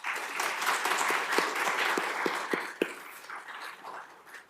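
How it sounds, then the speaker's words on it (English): Audience at a medical lecture event applauds, steady dense clapping with a few sharper individual claps near the front, tapering off toward the end. "let's give them a round of applause"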